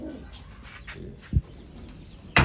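Soft pigeon coos sound at a distance, with a couple of brief low thumps against quiet background noise.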